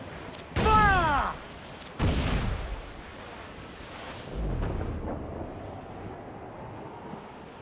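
Ship cannons fire a broadside in Assassin's Creed 4 Black Flag, three heavy booming blasts a second or more apart, each rolling off into a low rumble.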